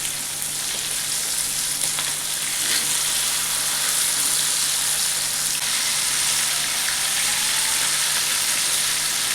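Four pieces of green masala fish fry on a tawa in hot oil, giving a constant, close, dense sizzle and crackle with small pops. No voices are heard.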